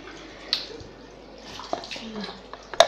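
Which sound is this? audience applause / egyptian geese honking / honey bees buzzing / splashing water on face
splashing water on face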